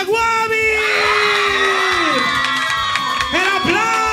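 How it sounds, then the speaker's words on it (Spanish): A children's show audience shouts, screams and cheers loudly and continuously, with a loud high voice sustained over the crowd noise throughout. "vamos con gritos y aplausos a Guavi."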